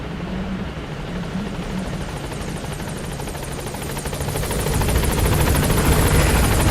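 The Pequod helicopter in Metal Gear Solid V arrives at a landing zone, its rotor throbbing loud and close, growing stronger toward the end with no speech.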